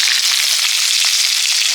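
Food frying in a pan in a Bengali village kitchen, a steady bright hiss of hot oil with small crackles and pops, close and continuous, with no voices.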